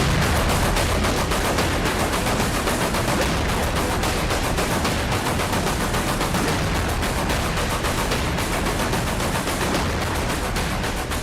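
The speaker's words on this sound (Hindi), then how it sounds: "यूक्रेन में धमाकों की ये आवाज थमने का नाम नहीं ले रही है।" Russian missile strikes on Kyiv, heard as dense, continuous, crackling blasts and rumbling that run without letup at a loud, harsh level throughout.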